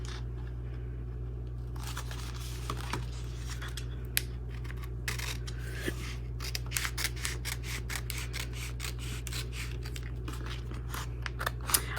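A sheet of 001 Series craft vinyl is cut straight across for a welcome sign, giving faint scattered snips and scrapes over a steady low background hum, with no voices.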